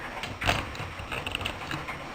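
A clothes dryer drum tumbling with a steady mechanical rumble, soft knocks and rattles as the load turns over.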